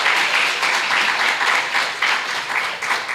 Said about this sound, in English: you can give them a round of applause in absentia